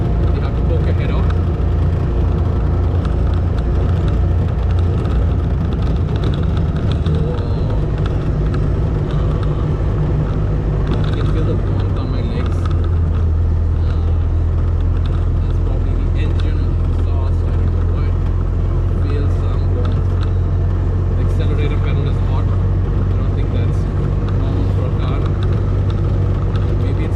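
Vintage car exhaust from inside the cabin while driving: a steady, loud low rumble with road and wind noise throughout, and a person talking over it.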